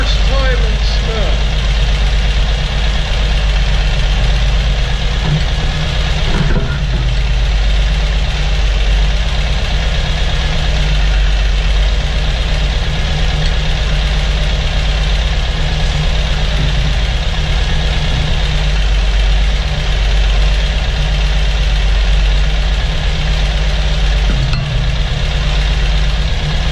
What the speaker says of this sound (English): I'm gonna go out and play in my Russian sidecar rig